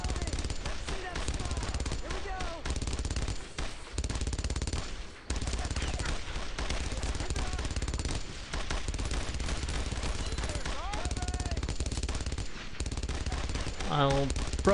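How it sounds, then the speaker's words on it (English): Sustained automatic machine-gun fire from the World War II shooter Brothers in Arms: Road to Hill 30, loud continuous bursts with brief pauses, mixed with scattered gunshots and battlefield noise throughout. "fire the MG"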